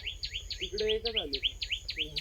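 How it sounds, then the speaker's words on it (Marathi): Garden birds call in quick repeated chirps and tweets at a steady rhythm, close and clear, with a few lower warbling notes mixed in. "आणि पक्षी बघा किती छान ओरडत"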